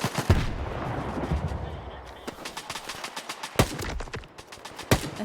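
Gunfire in S.T.A.L.K.E.R. 2, a series of sharp shots at irregular intervals, with a few louder cracks standing out over a steady background rumble.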